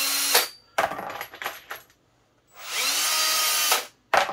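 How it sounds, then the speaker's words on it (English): A handheld drill spins a chalked nylon brush inside rifle cartridge case necks in short whirring bursts: a few quick spins, a pause, then one longer steady run and a final burst, close and loud, with no talking. "just got a nylon brush here, chalked up in a drill"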